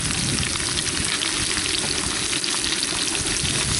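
Potatoes and garlic frying in a pan at a campsite make a dense, steady close sizzle with crackling and faint stirring throughout, no voices heard.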